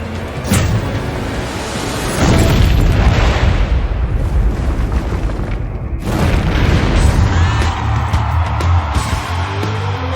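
Deep booming explosions from a tanker roll out in a sustained, loud roar, with a second surge of rumbling blast noise partway through; no one speaks.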